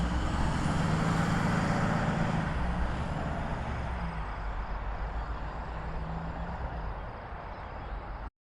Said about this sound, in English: And off the bus goes.